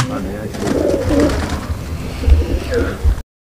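Sialkoti pigeons coo in low, murmuring bursts close by, with some background voices and rustling throughout before the sound cuts off abruptly near the end.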